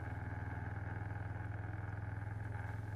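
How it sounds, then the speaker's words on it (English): A four-wheeler running steadily nearby while dragging a table on a homemade sled, its engine a low, even, pulsing drone with no talk. "now I'll use the four-wheeler and this kind of homemade sled to drag it over to the patio"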